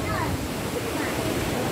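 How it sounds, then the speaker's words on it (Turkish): Rough Black Sea waves crashing in a steady, broadband roar, loud and close, with wind noise mixed in and some voices in the background. "Karadeniz'in hırçın dalgaları."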